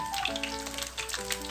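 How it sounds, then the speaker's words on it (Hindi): Chicken tempura frying in oil over low heat gives a soft, steady sizzle and light bubbling, fairly quiet, with a faint tonal hum underneath. "ऑयल में डालेंगे, इसे धीमी आंच पे अच्छी तरह से पका लेंगे।"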